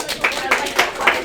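A few classmates clap in a classroom, four distinct claps spaced about a quarter second apart, close and fairly loud.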